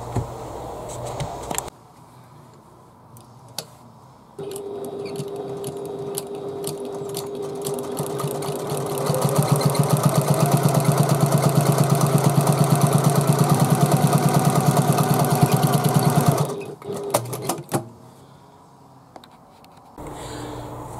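A sewing machine top stitches a handbag in a long run that starts moderate and speeds into a fast, loud, even whir before stopping, with scattered clicks of handling before and after.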